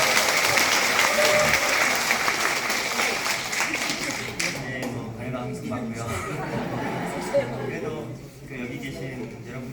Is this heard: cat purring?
no